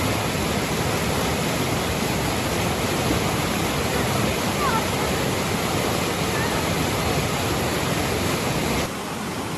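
A park stream in Almaty pours along in a loud, continuous wash of rushing water, heard close by and steady throughout, easing slightly near the end.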